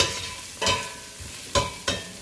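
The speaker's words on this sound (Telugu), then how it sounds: "ఉల్లిపాయలు వేగిపోయాయి" Onions frying in a pot for a one-pot vegetable biryani give a soft, steady sizzle, broken by three sharp scraping clatters as a spoon stirs them, all close by.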